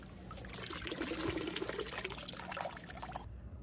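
Water trickles and gurgles steadily into an eFoil motor as it is dunked, a continuous close bubbling wash that cuts off abruptly at the end.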